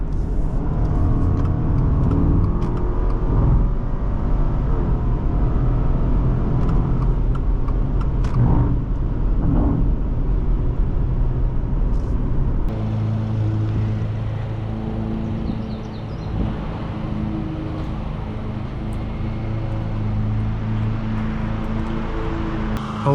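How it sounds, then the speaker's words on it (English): A 2024 Subaru Outback Wilderness drives and accelerates, a continuous loud road and engine drone with rising whir, heard from inside the cabin; the tone shifts midway as the car changes pace. "Today we are driving a 2024 Subaru Outback Wilderness"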